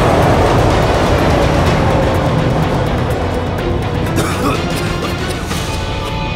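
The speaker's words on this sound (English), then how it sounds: "The train rushed past me." Train rushing past in an audio drama, a loud continuous broadband roar and rumble that swells and slowly recedes over several seconds, heard close up with no speech.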